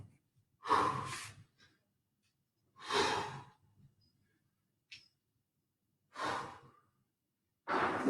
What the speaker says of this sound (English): Stretch, exhale.